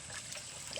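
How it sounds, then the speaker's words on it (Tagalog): A brief, steady trickle of water pours into a cooking pot of sautéed sponge gourd and fish, a soft continuous splashing with no voices. "naglagay na rin tayo ng tubig"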